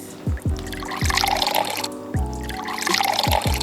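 Soapy water pours through a strainer in close, splashing gushes with a few sharp drips and knocks between them, loud and nearby without talk.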